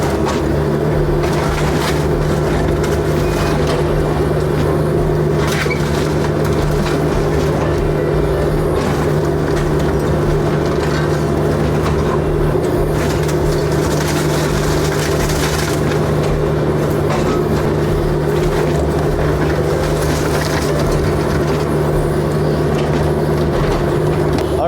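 A mini excavator works through house demolition debris, a loud continuous engine drone with hydraulic strain and scattered crunching and knocking of broken material throughout.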